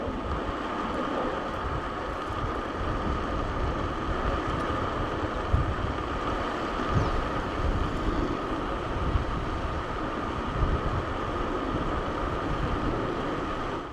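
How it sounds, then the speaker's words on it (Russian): Strong wind roars steadily across open countryside near a village, a continuous broad rush with low buffeting gusts against the microphone throughout. "ветерок сегодня, конечно, сильный"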